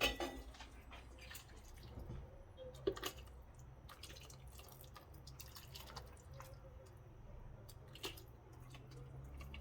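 Homemade Ukrainian borscht being ladled into a bowl, with faint liquid drips, soft splashes and a few light clinks of ladle against dish, quiet and close, no talking.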